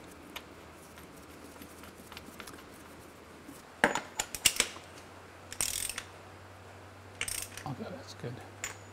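Metal ratcheting and clicking as a compression test adapter is fitted into an old diesel engine, with short bursts of clatter in the middle and later, over quiet background hum.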